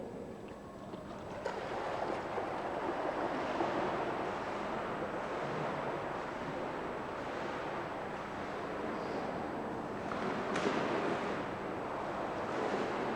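Someone swimming widths of a pool, with steady rolling splashes of water throughout, a continuous wash of sloshing and churning at moderate level and no talking.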